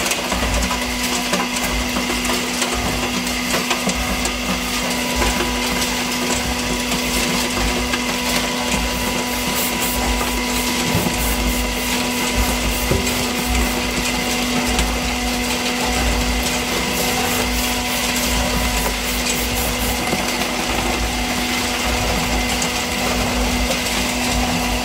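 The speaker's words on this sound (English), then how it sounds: "The machine is deep freezing." A 30-ton tube ice machine runs through its freezing cycle, a loud, unbroken mechanical drone with a steady low hum and no pauses or voices.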